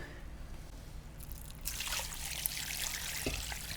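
Water poured into a pot over beef bones for bone broth, a quiet start giving way to a steady close trickling stream that runs for a couple of seconds.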